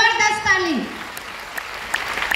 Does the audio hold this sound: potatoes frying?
no